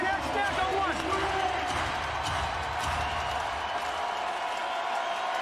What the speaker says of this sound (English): Crowd fired up here at the Jungle.